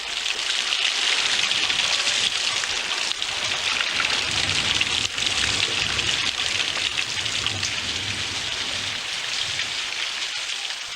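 Wet-season rain in Western Province, Papua New Guinea, a heavy continuous downpour hissing steadily on surfaces, close and unbroken with no voices.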